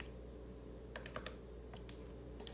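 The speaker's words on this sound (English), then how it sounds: "when I type this into the calculator" Keys pressed on a calculator keypad, a handful of light, separate clicks and taps over a quiet steady background hum, close and soft, with no talk.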